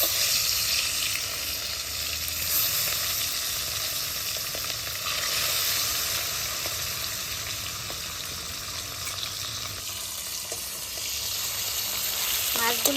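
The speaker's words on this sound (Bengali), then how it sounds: "তেল গরম হয়ে গেছে, মাছগুলি ভেজে নেব।" Pona fish fry in hot mustard oil in a pan, a steady loud sizzle and crackle that persists throughout, with faint clinks and stirring movements near the end.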